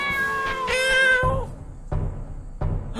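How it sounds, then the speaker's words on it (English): A cat meows in the video game Mathoria, a single drawn-out harmonic cry followed by short game sound effects, close and clear with no talk. "Oh, there's a cat!"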